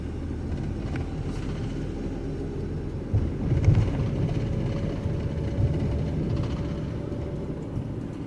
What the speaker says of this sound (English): Good old airport.